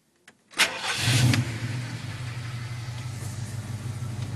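A 1978 Ford Pathfinder Quadravan 4x4 van engine cranks briefly and catches, then settles into a steady, close, rumbling idle with no talking.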